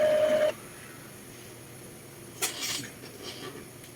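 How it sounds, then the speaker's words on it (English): An Epson L3250 EcoTank printer runs its print-head priming cycle, with a brief steady tone and hum at the start, then quiet mechanical whirring and a short clatter of internal movement, heard close and fairly faint. "it's prepping the print heads, and it said it was going to take about 10 minutes"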